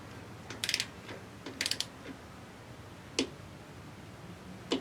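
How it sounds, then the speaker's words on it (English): A torque wrench tightens the oil drain plug on a 2006 Honda VT750 motorcycle, giving a few quick ratcheting clicks in two short bursts followed by two sharp isolated clicks, close and fairly quiet. "And then tighten it with the torque wrench"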